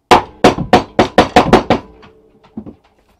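A pick mattock head tapped down onto its tapered wooden handle with a hammer: seven sharp, evenly spaced metallic knocks, close and loud, then a couple of fainter taps after a short pause.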